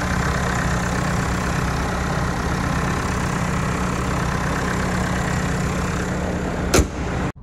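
A Mahindra Scorpio N Z6's 2.2-litre diesel engine idles with a steady, close, low rumble that holds constant throughout, broken near the end by a brief sharp click before cutting off.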